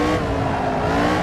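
A car on a circular handling track accelerates as the throttle is pushed, a loud, close, continuous engine drone with rising revs and some tire noise, no talking.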